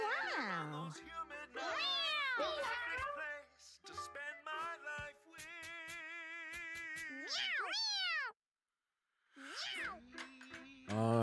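Repeated cartoonish cat meows and yowls from the Mewgenics video game, a rapid string of pitched, sliding cries with short pauses, loud and close, one brief silent gap.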